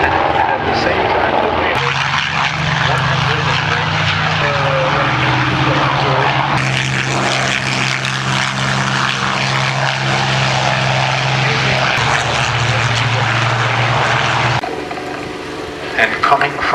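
A Balbo formation of 40 propeller-driven warplanes passes over the Duxford airshow, a loud, steady multi-engine drone that holds for most of the pass and eases off near the end.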